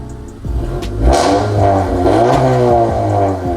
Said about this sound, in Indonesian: Terus knalpotnya udah Valvetronic, jadi ada 2 mode suara. Kalau suara A ini untuk racing